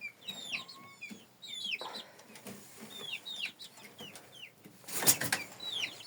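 Chickens, including a rooster, clucking and chattering nearby on a farmyard with high chirpy calls, a louder squawking burst near the end; no clear full crow.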